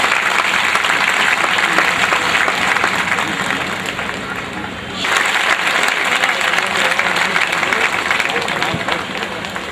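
Loud, sustained applause from a large crowd at a political rally in Balrampur, continuous clapping for the full length with a brief dip midway before swelling again, and no speech over it.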